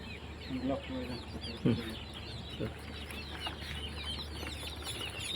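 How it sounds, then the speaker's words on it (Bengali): Poultry at the Kaliabar duck farm in Nagaon, Assam, a few clucking and quacking calls over a busy outdoor background of many birds and farm noise, with faint voices nearby. "এই হচ্ছে কলিয়াবর ডাক ফার্ম।"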